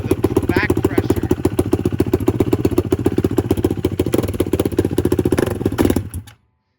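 A 2019 Kawasaki KX450 dirt bike engine runs with its exhaust removed, a loud, rapid, rough staccato firing close by that holds steady and then cuts off abruptly near the end.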